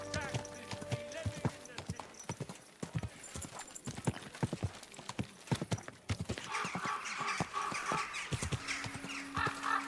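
Horse hooves clip-clop in a steady rhythm in the medieval video game Kingdom Come: Deliverance 2, mixed with a whinny and soft game ambience, and a voice speaks quietly over it.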